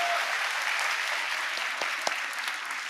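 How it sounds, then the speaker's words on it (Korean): A church congregation applauds during a festival sermon, continuous dense clapping filling the room at an even level, with a couple of sharper knocks near the end. "네, 박수합시다."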